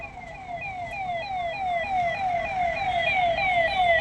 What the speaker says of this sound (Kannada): ಎರಡು ಅಪೋಸಿಟ್ ರೋಡಲ್ಲಿ ಒಂದು ಆಂಬುಲೆನ್ಸ್ ಸಿಕ್ಕಾಕೊಂಡಿದೆ.